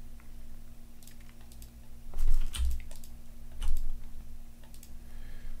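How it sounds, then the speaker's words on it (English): Clicking while casting Rattleclaw in an online Magic: the Gathering match, a few sharp clicks and taps scattered over a steady low hum, with a couple of louder bursts in the middle. "So much clicking to play Rattleclaw."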